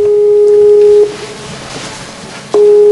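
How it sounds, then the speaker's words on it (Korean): Repeating telephone ringback tone heard while a video call from abroad to Korea is trying to connect: a steady electronic beep lasting about a second, a pause, then the tone returning, loud and alone. "한국에 있는 사이다의 언니 호시니다와 화상 전화 연결을 시도한다."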